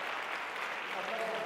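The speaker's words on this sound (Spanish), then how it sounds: "damos un fuerte aplauso a Ricardo Alejos" Steady audience applause fills a conference hall for speaker Ricardo Alejos at a business congress on cobots, dense and continuous throughout.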